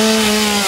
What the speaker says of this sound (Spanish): El ruido motosierra y el humo negro ese es evolución